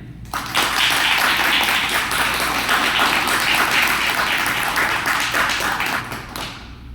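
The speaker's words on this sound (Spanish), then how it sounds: "Un aplauso para él" An audience at a philosophy congress panel applauds a speaker, a steady round of clapping that swells quickly, holds for several seconds and fades out.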